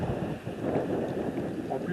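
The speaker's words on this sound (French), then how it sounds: "il y a beaucoup de vent, donc j'espère qu'on ne va pas trop l'entendre dans le micro" Strong gusting wind buffeting a handheld microphone outdoors while foraging for wild plants, a continuous low rumbling roar that swells and dips over the whole stretch, with no clear talk.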